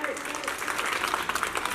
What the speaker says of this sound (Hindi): सभी बच्चे तालियां बजाएं।